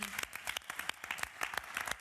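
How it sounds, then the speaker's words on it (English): Audience applause at an evening storytelling night on landscapes, a sparse room of individual claps with distinct, uneven hits rather than a dense roar, steady for two seconds. "We could also give ourselves a big round of applause for still being here at 9 o'clock."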